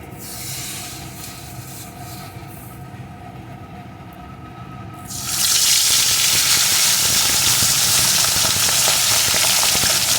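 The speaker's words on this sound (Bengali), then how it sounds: "এখন যে ম্যারিনেট করে রেখেছিলাম পমফ্রেট মাছগুলো একে একে দিয়ে একটু ভেজে নেব" Marinated pomfret fish drop into hot oil and burst into a loud, steady, close sizzle that fills the rest of the clip after a quieter start, with no talk.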